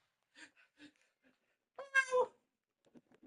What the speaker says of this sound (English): I'm gonna let the cat out